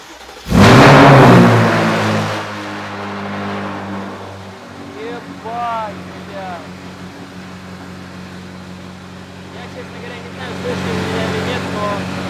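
A BMW M8 engine roars loudly to life indoors, revving hard then settling into a steady rumbling idle with a brief blip midway, echoing in the room.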